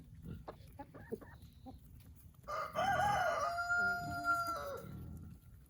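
A rooster crows loudly and long after a few soft clucks, with other chickens clucking faintly around it.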